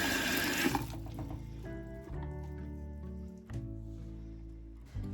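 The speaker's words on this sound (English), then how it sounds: "I'm just gonna fill it where it's mainly covered," Tap water runs into a kitchen pot, a steady close rush with shifting ringing tones as the pot fills, a brief louder splash at the start and no talking.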